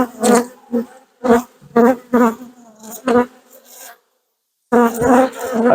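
Honeybees from a hived swarm buzz loudly right at the mic in intermittent, rising and falling bursts, followed by a brief silence and a renewed buzz.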